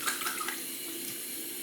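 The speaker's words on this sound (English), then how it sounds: "Just gonna clean up the AT stone real quick. Rinse my hand." Water from a tap runs steadily over a hand being rinsed after cleaning an AT sharpening stone, a brief close splashing hiss with a few louder splashes at the start.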